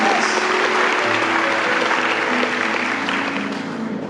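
A crowd applauding steadily, dense clapping filling a large room, gradually easing off toward the end.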